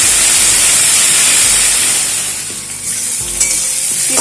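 Brinjal pieces with slit green chillies frying in a pan, a loud, dense, steady sizzle that eases a little midway, with a few stirring clinks near the end and no voices.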